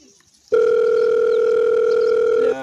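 A telephone ringback tone sounds as a call goes unanswered, one steady loud tone held for about two seconds after a short stretch of faint room sound.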